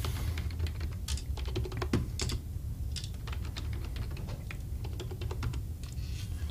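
Rapid irregular clicking of keys being mashed on a computer keyboard, close and fairly clear, in bursts of quick taps with short pauses, over a low steady hum.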